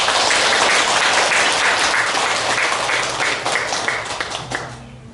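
Audience at a Buddha's Birthday ceremony breaks into loud, sustained applause, a dense wash of many hands clapping that gradually thins and fades toward the end.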